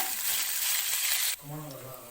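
Green chilli and small-cut ginger pieces sizzle loudly in a hot oiled pan as they are stirred, a dense frying hiss that cuts off abruptly midway, leaving a quieter hum with faint low tones.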